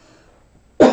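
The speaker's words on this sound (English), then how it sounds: "You know I always have a cough during the reading." A single sharp cough bursts out near the end after near silence, close and fairly loud.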